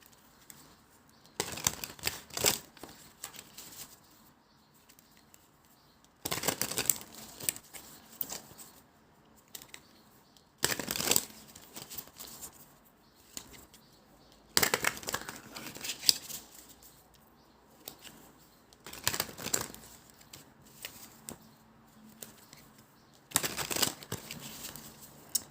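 Oracle cards being shuffled and laid out: soft, close bursts of riffling and card flicking repeat every few seconds, separated by quiet gaps of faint rustling.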